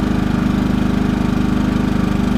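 A Champion 3100/2800 portable generator engine runs steadily under load, a loud, close, even mechanical drone with a fast regular pulsing throb and no voices.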